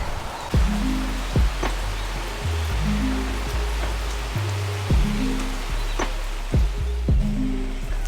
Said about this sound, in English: So it's now started raining.